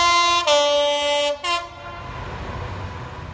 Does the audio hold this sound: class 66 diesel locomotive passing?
yes